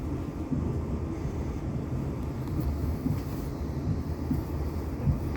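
Train rolling toward a junction near Woking station in heavy rain, a steady low rumble of wheels and carriages heard from on board, continuous and moderately loud, no voices.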